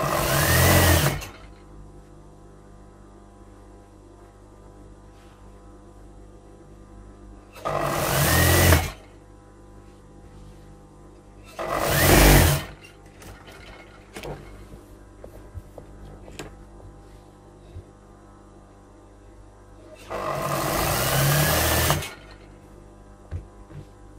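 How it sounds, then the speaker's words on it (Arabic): A sewing machine stitches fabric in four loud, close bursts of fast mechanical whirring, each lasting one to three seconds, separated by quieter pauses with light handling noises. "بقى لي غير نخيط نجمعها"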